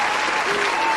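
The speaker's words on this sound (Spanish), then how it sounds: "Aplaude" A short, dense burst of applause, steady and loud from start to finish, celebrating a new subscriber during a live Spanish-language show.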